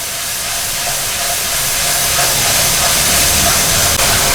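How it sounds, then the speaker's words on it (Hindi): Onions frying with turmeric and coriander powder for a beef trotters curry give a steady, loud hiss and sizzle that holds evenly throughout, with no voices. "इसको हम अच्छे से भून लेते हैं प्याज के साथ।"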